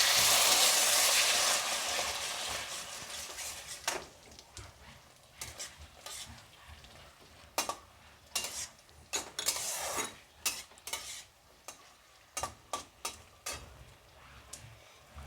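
Chilli chicken masala being stirred in a kadai: a long frying hiss at the start, then a run of sharp, irregular scrapes and clinks of a spatula against the pan, close and clear with no talk.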